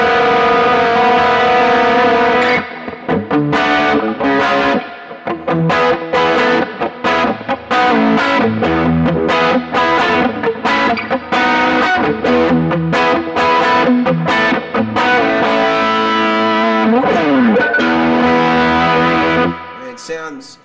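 Distorted electric guitar through an overdrive pedal with a Marshall-like tone plays a busy run of notes and bends, loud and gritty, continuous for most of the stretch with no talking.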